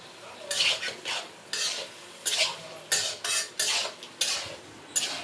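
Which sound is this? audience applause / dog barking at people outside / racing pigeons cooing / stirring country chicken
stirring country chicken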